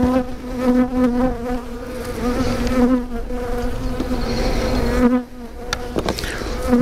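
Honeybees buzz densely and steadily around an opened nucleus colony during a hive inspection, a close, continuous drone that swells slightly with agitation, without talking.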